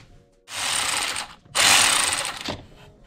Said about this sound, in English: I'm gonna use my electric ratchet. Get these off real quick.